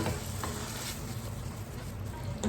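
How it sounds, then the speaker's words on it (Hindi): Boiled chickpeas being gently mixed into chicken masala in a pan, with a steady low sizzle of frying under soft stirring scrapes throughout, close and continuous with no talking. "अब इसमें हम बॉइल्ड चने मिक्स कर देंगे। इसको हल्के हाथ से मिक्स करेंगे।"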